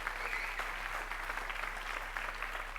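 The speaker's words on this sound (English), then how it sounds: "I think that deserves maybe a little round of applause." Guests at an in-person Chamber of Commerce luncheon in Pasadena clap steadily together, a dense, even patter of applause that fills the room without cheering.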